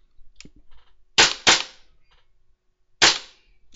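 A WE gas blowback airsoft pistol fires on semi-automatic with no BBs loaded, a few sharp separate cracks, two close together and one after a pause, loud and near with no talk.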